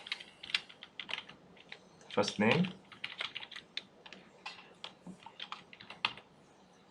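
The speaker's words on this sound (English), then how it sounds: "So I'll start typing" Clicky keystrokes on a computer keyboard while entering first names into an Excel spreadsheet, irregular bursts of taps with a denser flurry in the middle, close and clear, with someone speaking briefly over it.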